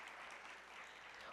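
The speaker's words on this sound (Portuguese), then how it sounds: "com vocês, por favor, uma salva de palmas" Audience applause greeting a speaker at a neuroscience talk, a steady dense patter of clapping that holds evenly throughout.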